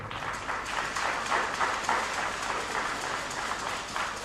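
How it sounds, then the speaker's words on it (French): An audience at a community event in Benin claps in honour of Professor Victor Topanou, a moderate, continuous wash of hand claps with gentle swells, somewhat distant and unaccompanied by speech. "que je vous demande d'applaudir très fort"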